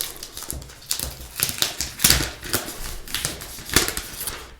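Crinkly plastic rustling and peeling as a protective cover is pulled off a Penstar eNote Pro M10c 10.3-inch color e-ink tablet, a series of close, irregular crackling bursts with no talk.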